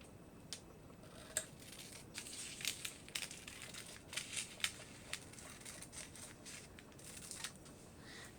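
Toner foil sheet crinkles faintly while handled for a foiling system, giving scattered light crackles and taps at an irregular rhythm, close but quiet.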